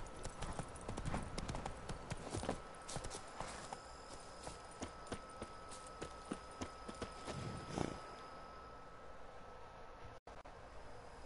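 Horse hooves in The Witcher 3: Blood and Wine clip-clop at a steady walking pace on a hard surface, moderately close, with a faint hiss in the background and no talking.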